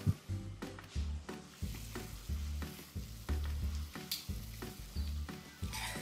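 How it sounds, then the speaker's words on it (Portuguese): An apple pancake sizzles and caramelizes in a pan over an open wood-fire grill, with a steady frying hiss and repeated stirring or pan-shifting knocks, close and moderately loud. "A lateral já está começando a caramelizar, porque o fogo aqui, desse lado, tem um pouco mais de intensidade do que desse"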